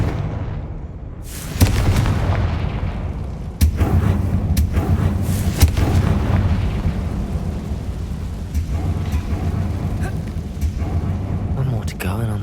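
Confringo fire spell explosions in the video game Hogwarts Legacy, with sharp booming bursts near 1.5, 3.6 and 5.5 seconds over a dense, rumbling game soundscape and a speaking voice.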